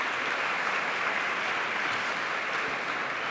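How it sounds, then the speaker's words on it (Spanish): Applause fills a lecture hall during a round-table conference held in the former National Congress: a dense, even wash of many hands clapping, steady throughout with no voices on top. "un aplauso para ella"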